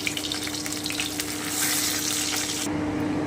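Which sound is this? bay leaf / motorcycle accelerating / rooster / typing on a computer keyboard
bay leaf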